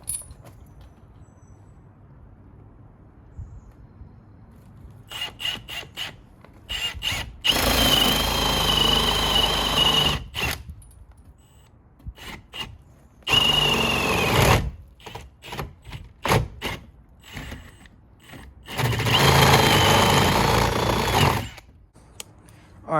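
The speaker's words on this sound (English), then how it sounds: "Now I've just got to drill that hole." Hole being drilled into a generator building wall with a power drill for a pipe run, in several loud bursts of whirring and grinding separated by pauses, close by.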